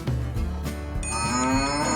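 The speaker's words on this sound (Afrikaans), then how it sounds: "Koei. Party koeie is swart en wit en ander koeie het bruin vlekke." A cow moos loudly and close, a long sustained low bellow that rises in pitch toward the end, with a faint tonal ringing layered over the last part.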